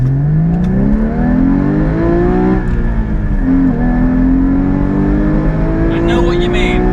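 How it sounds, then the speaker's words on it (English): A Porsche sports car with a manual gearbox accelerates hard in first gear, the engine note climbing steadily and loudly, dipping briefly, then rising again, heard from inside the cabin. "Let's see if we can just get some acceleration on this car."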